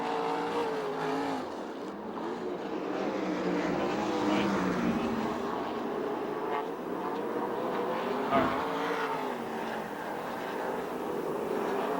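USAC/CRA sprint cars racing at Perris, a continuous engine roar from several cars at a distance, sustained and fairly even with slight swells as the pack passes, no voices.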